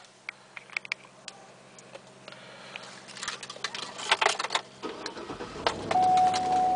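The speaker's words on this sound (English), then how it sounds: "All right, let's get the car started." A 2009 GMC Yukon Denali AWD engine cranks and catches after some clicks and key jingles inside the cabin, then settles into a steady idle.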